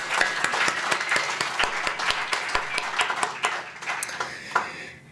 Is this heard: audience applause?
yes